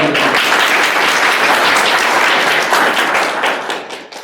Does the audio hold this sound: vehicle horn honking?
no